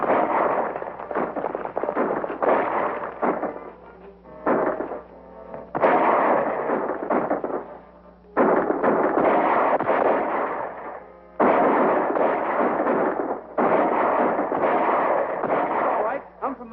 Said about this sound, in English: Shooting is helping us.